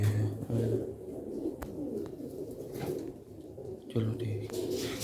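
Pigeons on a rooftop coo in low, soft, throaty bursts, with one at the start and another after a pause, over faint background noise.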